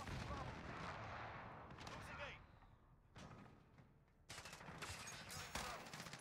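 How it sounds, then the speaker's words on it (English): Airstrike explosions thunder in a Call of Duty: Modern Warfare match, with bursts of gunfire and heavy booming blasts rolling through in waves and a voice talking over the battle. "Allied precision airstrike incoming"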